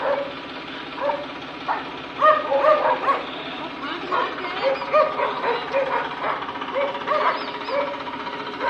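A frightened dog barks and yelps in short bursts at a distance, with some whimpering mixed in over a steady background hum.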